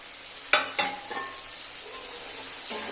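Vegetables sizzle in a hot pan as cumin paste and green chili paste go in for a Bengali small-fish and potato dish. Steady close frying hiss is broken by a few sharp stirring scrapes and clinks.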